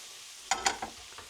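Gnocchi tossed in a pan with a breadcrumb mix gives a few quick, close scraping swishes: two stronger strokes followed by softer ones, with no talking.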